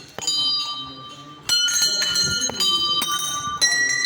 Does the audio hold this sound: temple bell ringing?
yes